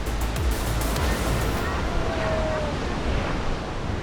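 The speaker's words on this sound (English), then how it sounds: "These huge waves have been tracked all the way from Antarctica" Heavy surf roars continuously, huge ocean waves of up to 30 feet crashing against rocks with a deep rumble and wind noise buffeting the microphone.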